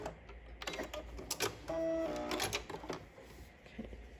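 A sewing machine back stitching to finish a gathered seam, giving short bursts of fast mechanical ticking and whirring with a brief tonal hum, fairly quiet and alone.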